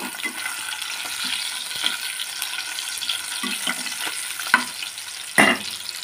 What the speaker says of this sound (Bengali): তো মাছগুলো সবগুলো এরকম ভেজে নেব